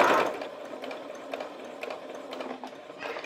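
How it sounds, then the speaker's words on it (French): A sewing machine stitches a hem on a dress, running in a continuous close mechanical whirr with a brief louder burst at the start and small rhythmic clicks throughout. "Donc, je couds à 1 cm jusqu'à mon repère."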